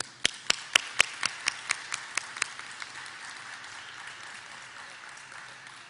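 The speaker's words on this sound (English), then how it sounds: "another round of applause." An audience applauds student leaders at a vaccination event: a handful of sharp, evenly spaced claps stand out at first, fading into a softer spread of clapping that trails off.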